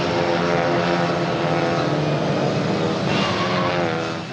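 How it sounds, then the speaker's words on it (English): Clio Cup race cars at Imola circuit roar past with a loud, sustained droning engine note, tyres skipping over the kerbs, steady and close throughout. "You can hear the cars hopping and skipping over the curbs."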